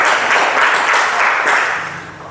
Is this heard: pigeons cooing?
no